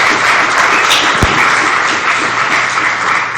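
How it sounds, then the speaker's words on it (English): Steady applause from a conference audience continues throughout, with a single thump near the middle and no talk. "Give a round of applause again."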